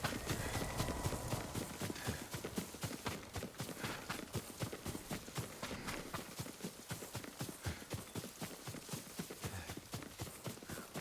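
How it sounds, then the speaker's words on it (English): Horse hooves clip-clop steadily and rapidly through the whole stretch in Ghost of Tsushima, a dense running rhythm of close, loud footfalls over a busy game soundscape. "Yuriko's horse. She can't be far."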